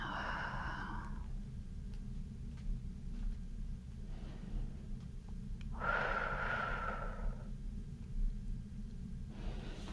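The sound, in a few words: breathing in and out during chair yoga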